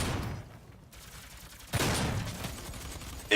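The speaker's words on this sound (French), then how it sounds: "Le fusil gauss, c'est un peu le one-shotter du jeu." Gauss rifle in the Doom video game firing: one sharp, loud energy blast breaking in after a quiet stretch, trailing into a lingering roar, with another shot starting at the very end.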